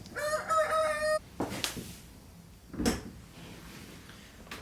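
Rooster crowing loudly and close in a single long harmonic call at the start, followed by a few thumps and scuffs in a quiet yard.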